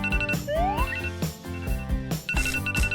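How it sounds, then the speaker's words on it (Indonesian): Phone alarm going off in a bedroom, a bright melodic ringtone of repeating tonal notes with rising chirps, in regular bursts and fairly close, with no talking. "Apaan tuh? Oh, alarmku."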